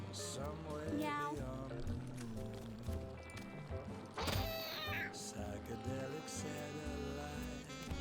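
Cartoonish cat meows in the game Mewgenics sound among game music and effects, a few short mews at moderate volume, with a sharp sweeping effect midway.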